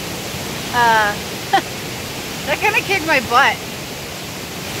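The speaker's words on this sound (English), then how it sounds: "Hear me over the roar of this waterfall" A waterfall in Western South Carolina roars as a loud, constant broadband rush close by, while a person speaks briefly over it.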